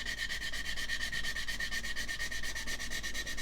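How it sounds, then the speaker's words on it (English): A medium sanding stick rubs back and forth along a plastic scale model's seam in quick, even strokes, close and steady throughout. "it is sanding down perfectly well, even with the finer side, and this is the medium sanding stick still"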